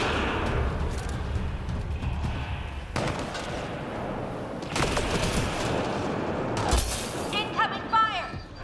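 Rapid gunfire and explosive bursts from the Mass Effect Andromeda video game fill a busy combat soundscape, continuous and loud, with voices speaking over the shooting.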